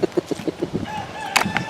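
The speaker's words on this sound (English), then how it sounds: "Roosters are the only ones that talk like that." Rooster at a free-range farm area of a historic settlement, a run of rhythmic clucks followed by a crowing call, moderately close and fairly loud outdoors.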